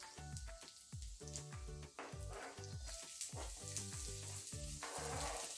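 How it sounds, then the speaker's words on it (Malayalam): Chopped garlic and vegetables for egg noodles fry in hot oil, a bright crackling sizzle with repeated pops and spatters, close and steady throughout with no talk. "എണ്ണ ചൂടായി, അതിലേക്ക് 3 അല്ലി വെള്ളുള്ളി ചെറുതായി മുറിച്ചത് ചേർത്തു"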